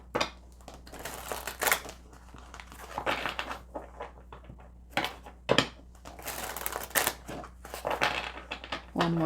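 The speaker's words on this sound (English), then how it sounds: "One more shuffle." Tarot cards being shuffled by hand close up, quiet bursts of papery riffling and flicking in irregular clusters with short pauses between, no talking.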